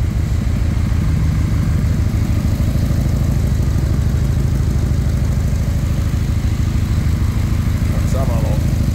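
Harley-Davidson Electra Glide Ultra Classic from 1993 with a 1340 Evo engine idling steadily and loudly with the choke on, a continuous low rumble throughout.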